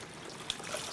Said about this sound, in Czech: A teď přelejeme studenou vodou.